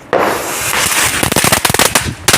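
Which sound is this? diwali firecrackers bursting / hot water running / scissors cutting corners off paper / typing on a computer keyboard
diwali firecrackers bursting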